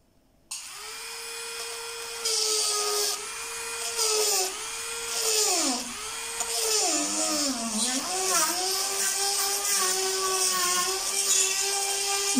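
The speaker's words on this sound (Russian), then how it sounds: "Я все время немного подкручиваю это сверло" Drill boring a hole into stone, its whining pitch rising and sagging as the bit loads up and briefly stalls, then steadying into a continuous close, sustained grind.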